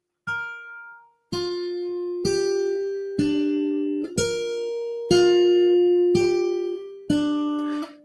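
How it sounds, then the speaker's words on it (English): Virtual church bell tower ringing a sequence of about eight clear, struck bell tones, each sustained and decaying before the next, loud and close with a clean, resonant sound. "just because you have a virtual church doesn't mean you can't have a bell tower"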